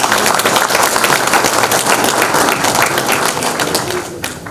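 An audience at a Banat sausage tasting event in the cultural hall in Lovrin gives close, loud applause with dense, continuous clapping that tapers slightly toward the end.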